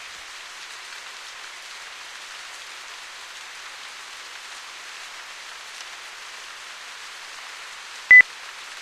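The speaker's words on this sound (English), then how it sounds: "Yeah, that's my half-hour beep" A single short electronic timer beep sounds near the end, clear and brief, over a steady hiss of rain-like background noise.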